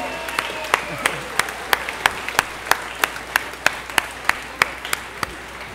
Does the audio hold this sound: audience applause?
yes